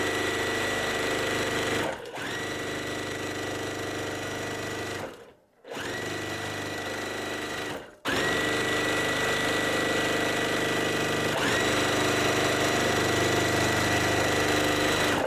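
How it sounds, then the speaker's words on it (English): A sewing machine runs steadily as a quilt block's finishing strip is sewn on, a close, continuous whirring drone broken by two brief pauses and one longer stop before stitching resumes. "So we're just going to sew this finishing part on."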